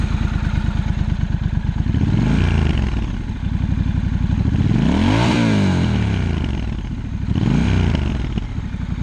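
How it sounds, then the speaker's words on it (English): A Triumph Scrambler 1200 XC motorcycle engine with a standard exhaust idles with a throbbing pulse and revs up three times, each rev rising sharply in pitch then dropping back, with some crackle on the overrun. "for a standard exhaust system, I think this sounds really, really nice"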